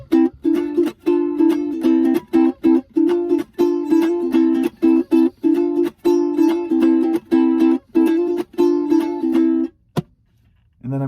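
A homemade musical riff on an instrument plays as a quick, repeating run of bright plucked notes, close and clear, then breaks off near the end with a brief hit before silence.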